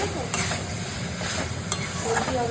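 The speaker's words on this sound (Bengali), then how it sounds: "দেন ভেজে রাখা চিকেনের টুকরোগুলি দিয়ে দিলাম, দিয়ে একটু কষিয়ে নিলাম।" Pre-fried chicken pieces sauté in a pan for chilli chicken, giving a continuous close sizzle with a few sharp stirring scrapes and no talking.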